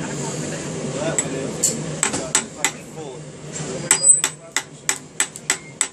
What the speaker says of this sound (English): I'm just hammering. I work hard on it. I'm trying to, make it stiffer.